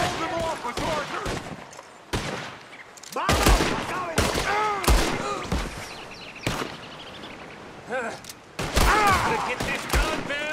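Gunfire in the Red Dead Redemption II video game: repeated loud gunshots in irregular bursts, mixed with shouting voices and game sounds.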